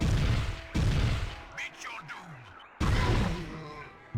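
Sharp bursts of gunfire in the 1998 game Warhammer 40k Chaos Gate crack out in three loud blasts separated by pauses, with synthetic whooshing effects between them.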